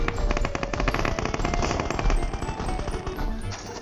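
Automatic gunfire in PUBG Mobile, a fast unbroken burst of closely spaced shots sustained throughout, loud and near, with no voices.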